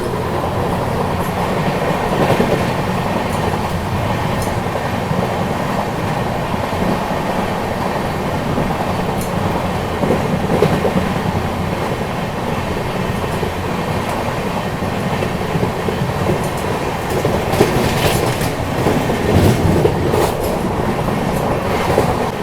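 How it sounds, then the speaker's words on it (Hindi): The Panvel–Gorakhpur Express runs on rails at 100-110 km/h after passing Barabanki Junction, heard as a loud, steady rolling rumble with continuous wheel clatter and faint squeals that persist throughout. "अभी देखो बाराबंकी जंक्शन निकलने के बाद 100-110 की स्पीड मेंटेन कर ली है ट्रेन ने"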